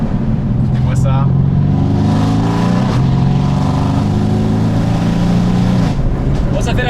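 Mercedes C63s AMG engine echoing in a tunnel, a loud, close V8 roar that climbs through revs, drops with a gear change, then pulls again before fading, with voices talking over it.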